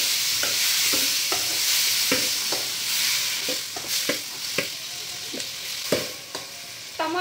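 Chopped tomatoes sizzle steadily in a hot pan for a chutney while a spoon scrapes and stirs in uneven, repeated strokes, close and clear, with no voices.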